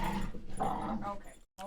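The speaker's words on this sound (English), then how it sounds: "do you hear my dog?" An angry dog makes rough growling, grumbling vocal noises up close, several uneven moaning bursts that break off into a brief silence before starting again.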